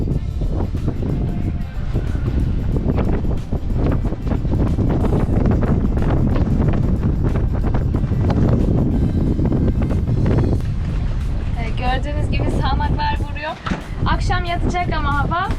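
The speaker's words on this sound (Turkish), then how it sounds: "Bir anda 20 knot, 25 knot civarında yandan bordadan vuran bir sağanak oluyor." Strong 20 to 25 knot crosswind gusts roar continuously across the microphone on a boat, with rushing gusts and water noise. Brief creaks and tonal squeals rise near the end.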